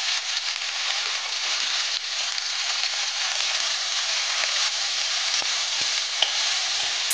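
Chopped dhekia fiddlehead fern frying in a pan with onions, giving a steady, bright, close sizzle that hisses evenly throughout, with a few faint stirring knocks and no talking.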